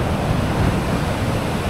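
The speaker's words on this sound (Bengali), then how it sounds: "বিশাল বিশাল ঢেউ" Big ocean waves breaking on the beach at Cox's Bazar after dark, heard as a dense, steady roar of surf with wind rumble close to the microphone. No voices are present.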